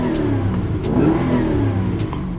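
A Mercedes-Benz S550 4MATIC 5.5-litre V8 revs again in a loud, sustained roar that swells and eases, heard from close by with no talking.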